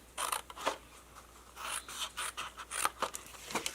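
Scissors snipping through cardstock while making a storage box, a series of short, dry, close cuts in an irregular rhythm, fairly quiet with no voices.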